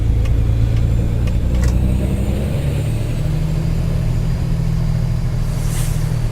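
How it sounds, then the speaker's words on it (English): A loud Peterbilt 389 truck engine drones steadily from close by, with a deep rumble that shifts pitch slightly as it runs. "Just listen to the truck."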